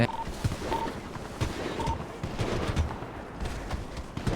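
Gunfire in the Free Dom Town roleplay game crackles as bursts of rapid shots, some close and punchy and others distant, scattered across the moment while players talk over it.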